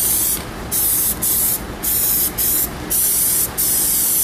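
Bursts of aerosol spray paint hiss onto the front faces of car wheel spokes, about seven short and long blasts separated by brief pauses, close and loud with no talk.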